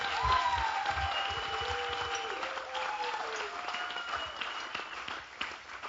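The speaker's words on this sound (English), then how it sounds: "Can I give them a round of applause?" Steady audience applause following a speech at a hosted gathering, a moderate, even patter of many hands that continues for several seconds while soft tonal sounds drift underneath.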